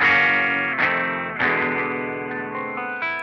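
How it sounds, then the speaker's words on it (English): Guitar played through a Sonuus Wahoo touch wah effect: bright, distorted sustained chords struck four times, each attack sweeping the filter before decaying, loud and alone. "F20 is a touch wah,"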